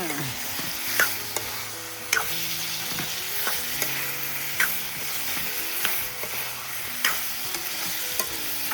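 Duck meat with garlic paste and spices fries in a pan over a village cooking fire, steady sizzling broken by repeated scraping stirs roughly every second, close and clear with no talking.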